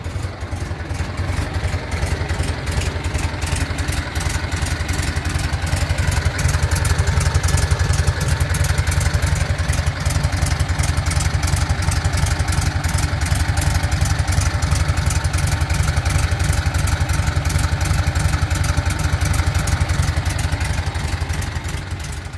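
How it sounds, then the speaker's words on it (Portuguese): A red 1972 Volkswagen Fusca 1500 idles steadily up close, its air-cooled engine giving a rapid, even, chugging pulse with a low, continuous rumble for the whole stretch, with no talk over it. "Olha aqui, ronquinho, galera. Olha que marcha lenta."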